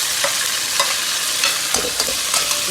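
Tomato, green chilli and fried onion go into a pan of turnip curry, giving close, continuous sizzling frying broken by several clattering stirs and scrapes, with no voices.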